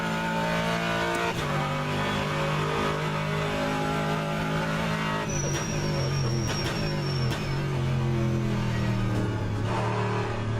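Race car engine in rFactor 2, a sustained loud drone that shifts pitch as the car revs and changes gear, with tires squealing briefly midway and a continuous close, unbroken roar.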